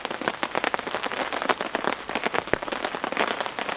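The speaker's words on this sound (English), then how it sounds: "I'm listening to the sound of the rain" Steady rain patters on a surface, a dense, continuous spatter of drops with no voices, fairly soft and close.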